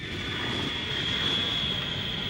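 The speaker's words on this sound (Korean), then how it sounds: "그 길로 정희 씨는 다시 일본 비행기를 탔습니다" Airplane sound effect from a Korean radio drama: a steady, continuous engine drone with a thin high whine, held at an even level throughout with no voices over it.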